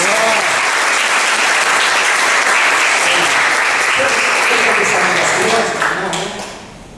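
A church congregation bursts into loud applause praising the Lord, a sustained roar of clapping mixed with voices that swells, holds, then fades away at the end.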